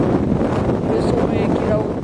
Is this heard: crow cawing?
no